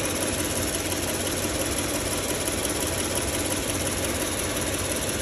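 A Toyota Land Cruiser 100 / Lexus 2UZ-FE V8 engine idles steadily and loudly up close, a constant low rumble with a faint rhythmic knock throughout.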